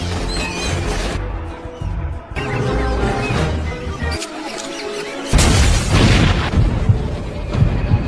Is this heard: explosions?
yes